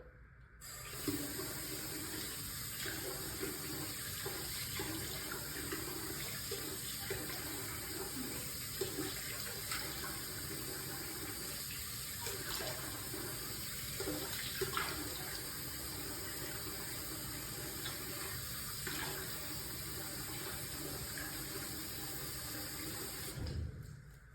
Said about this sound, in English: I am now going to wet my face so I can prep it for me to wash my face with my facial soap